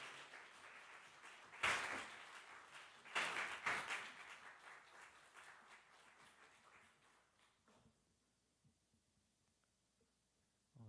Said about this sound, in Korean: 오늘 목사님 나오실 때 여러분 큰 박수로 환영해 주시기 바랍니다